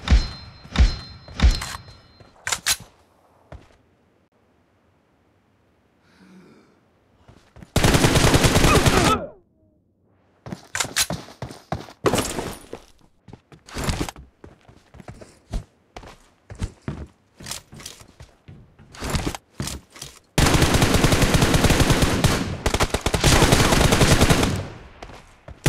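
M416 assault rifle fire in a PUBG Mobile team deathmatch, loud close bursts of rapid automatic shots in several long volleys, separated by single shots, thuds and quieter footsteps.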